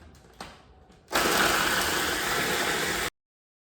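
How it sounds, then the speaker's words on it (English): A food processor mincing shrimp starts after a few faint clicks and runs as one loud, steady whirring burst for about two seconds before cutting off abruptly. "So what Kim is doing is putting the shrimp into the food processor, and we're gonna mince it up into tiny pieces"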